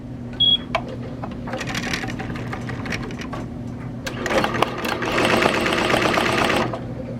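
Tajima TMBP embroidery machine stitching a cap at 500 stitches per minute, a button beep then a rapid mechanical rattle that builds and grows louder toward the end, close and steady with no talk.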